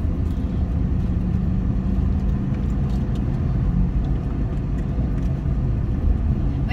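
A Sumber Kencana bus on the road, a constant loud engine rumble and road roar heard close up, as from inside or right beside the moving vehicle.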